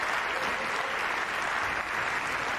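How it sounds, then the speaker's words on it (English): Continuous applause from the crowd after the women's tennis final at Courmayeur, a dense, even wash of clapping held throughout at moderate loudness. "Team Vekic on their feet, applauding, and rightly so"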